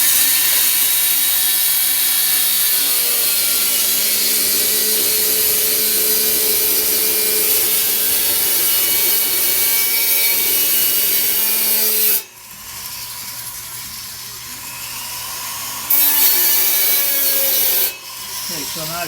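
A cracked cymbal is being cut with a hand saw or rotary tool, its harsh grinding rasp continuous for about twelve seconds before it drops away, then a brief second burst of cutting follows near the end.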